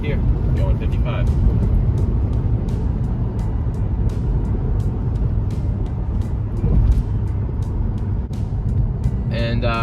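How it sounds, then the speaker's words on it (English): A 2005 Acura TL with manual transmission cruising in sixth gear at 55 mph, a steady interior drone of engine and road noise running continuously beneath a person speaking. "now we're in sixth gear, going 55"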